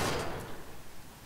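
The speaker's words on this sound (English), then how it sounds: "Is this a door?" A door opening in Batman: Arkham Asylum, a short broadband burst at the start that quickly fades into a low, quiet rumbling tail, heard alone with no talk.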